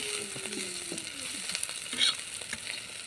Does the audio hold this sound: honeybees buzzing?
no